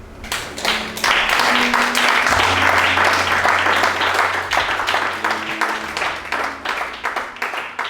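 A church congregation applauds and cheers in praise during a sermon, loud and sustained clapping with voices mixed in throughout, a low hum beneath it.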